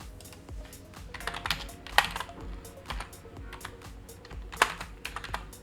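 Python code being typed on a computer keyboard, a brisk uneven run of close, crisp key clicks with a few louder strikes and no talking.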